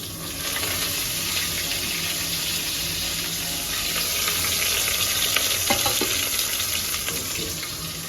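Steady, loud sizzling of spices and asafoetida tempering in hot oil for a mango raita, a continuous crackling hiss with a few brief pops near the end; no one speaks.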